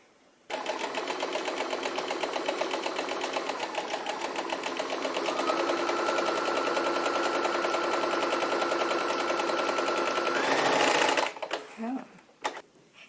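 A sewing machine stitches a French seam on sheer organza, a steady near whir running unbroken for about ten seconds before stopping, followed by a couple of faint handling clicks.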